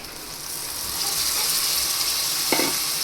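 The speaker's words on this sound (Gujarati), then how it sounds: "હવે આપણે તેમાં કોબી એડ કરી દઈશું" Thinly sliced cabbage sizzling and being stirred in a hot pan for a Gujarati cabbage-carrot sambharo, a steady loud hiss with a brief scrape of the spoon partway through.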